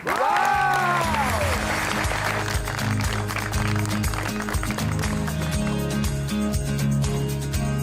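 A studio audience on a television talk show applauds to welcome a guest, loud continuous clapping blended with an upbeat musical sting and rhythmic bass underneath.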